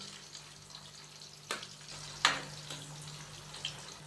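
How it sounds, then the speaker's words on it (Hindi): Chopped onions sizzle steadily in hot oil in a pan, frying until light brown, with a few soft knocks from stirring over the constant hiss. "प्याज को हम लाइट ब्राउन करेंगे।"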